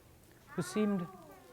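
A puppeteer's voice imitates a cat's meow for a shy puppet cat in a children's puppet show, a single drawn-out, pitched mew rising then falling, heard close and alone in a quiet room.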